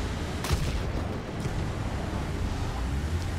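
A tank cannon fires once with a sharp blast in War Thunder, followed by a quieter thump and steady wind-like rumble throughout.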